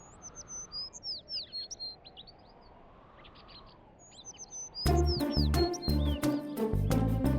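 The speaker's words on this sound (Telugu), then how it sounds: "ఈ పక్షులు చాలా ముద్దుగా ఉన్నాయి." Small birds chirp and tweet nearby in quick, bright calls, first over a quiet background and then with loud music joining in.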